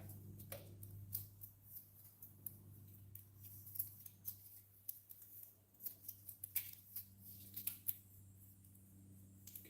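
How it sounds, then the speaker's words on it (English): Backing being peeled little by little off foam-tape car badge letters, a quiet run of small crackling ticks and snips over a steady low hum, growing busier toward the end. "So little by little, I'm just peeling this back."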